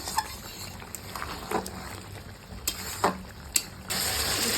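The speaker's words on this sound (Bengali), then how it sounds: "আর চিকেনটা কষানো হচ্ছে, এই যে দেখতে পাচ্ছি" Chicken frying and being stirred in a pan over a wood-fired clay stove, soft sizzling under scattered scrapes and clinks of a spatula against the pan, fairly quiet and close.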